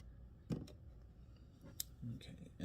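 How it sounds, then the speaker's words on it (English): Scissors snipping away excess material while a fly is being tied on a hook, a few short close cuts spread across under soft speech. "Cut away the excess there."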